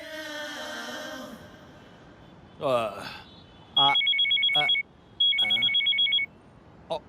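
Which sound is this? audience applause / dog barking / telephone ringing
telephone ringing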